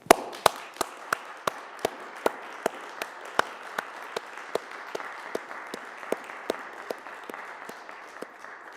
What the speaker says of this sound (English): Please join me in a warm round of applause for the class of 2021